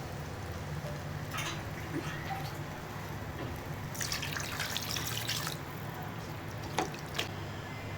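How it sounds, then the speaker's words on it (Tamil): Water splashes and pours into a pot of country chicken curry in a few short bursts over a low background hiss, close and moderately loud. "இந்த கறி முழுகிற அளவுக்கு கொஞ்சம் தண்ணி சேர்த்து நல்லா வேக விடுங்க"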